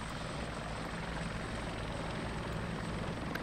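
A helicopter in the military video game Arma 2 drones loudly and steadily at close range, its rotor and engine noise filling the whole stretch without talk.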